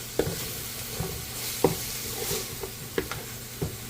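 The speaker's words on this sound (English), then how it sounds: "we're going to give it a good mix and continue cooking this for a few minutes" Minced meat and spices are stirred and fried in a pan, with a constant sizzle broken by four or five distinct scraping stirs at regular intervals.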